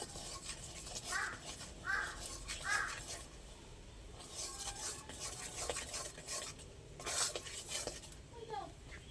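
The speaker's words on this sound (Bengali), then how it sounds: "এবার যে চালের গুঁড়ো করে রেখেছিলাম দিয়ে দেবো অল্প অল্প দেবো আর নাড়াবো" Rice flour is stirred into a pot on the stove, with intermittent scraping and rubbing of a utensil against the pot, fairly faint, in short irregular bursts.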